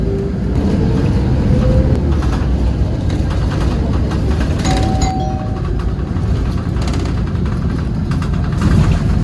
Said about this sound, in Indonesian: Bis ini memutar balik melalui pancoran Chinatown di sebelah kiri saya